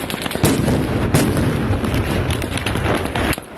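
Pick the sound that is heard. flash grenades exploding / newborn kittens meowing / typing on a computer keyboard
flash grenades exploding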